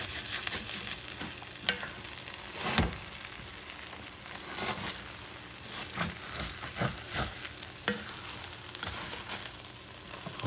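Creole-style jambalaya stirred in a pot, a continuous sizzle overlaid with repeated scraping and clanking strokes of the spoon against the bottom, fairly close and loud, with no voice.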